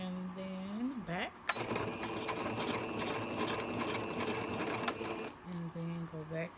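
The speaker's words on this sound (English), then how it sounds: "we're gonna start sewing" A sewing machine stitches tulle and ribbon for a fluffy tutu in a fast, steady mechanical whir lasting several seconds, with someone talking briefly just before and after it.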